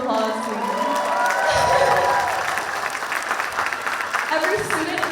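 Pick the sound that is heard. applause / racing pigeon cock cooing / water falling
applause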